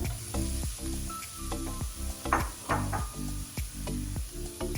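Tomatoes sizzle in a pan with browned onions and garlic, a steady hiss broken by bursts of spitting and stirring scrapes, close and fairly loud over a low hum.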